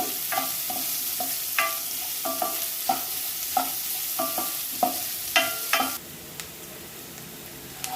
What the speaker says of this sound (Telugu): ఇప్పుడు ఈ ఆనియన్స్ కొంచెం బాగా రెడ్గా వేగే వరకు వేయించుకోవాలి